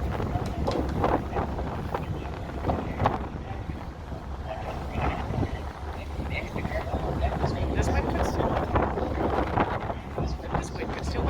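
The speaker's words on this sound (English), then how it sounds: "This wind could steal my camera." Strong wind roars steadily against the camera microphone on the open deck of the Queen of Surrey ferry between Horseshoe Bay and Langdale, loud and buffeting throughout, with faint voices underneath.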